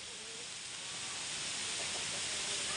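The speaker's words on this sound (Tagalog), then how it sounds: "Lakas na naman yung hangin" Strong wind rushes steadily outdoors as a broad, continuous hiss that swells slightly louder over a few seconds, with no voices.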